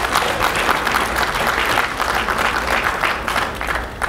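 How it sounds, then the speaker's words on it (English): A convention crowd at the Efik National Association gathering in Houston claps together in sustained applause, a dense, loud and continuous patter of many hands filling the room without pause. "A round of applause for yourselves."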